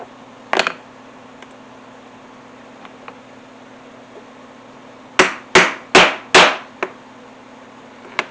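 A rivet struck with a setter on an anvil while building a cordless drill holster: one sharp hammer blow early, a few faint taps, then four loud ringing strikes in quick succession with a lighter knock after, close and alone.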